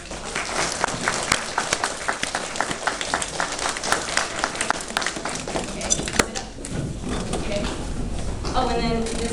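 A school gathering applauds Jill Delphin with a dense burst of crowd clapping that stays loud for several seconds, then thins toward the end as a voice starts speaking.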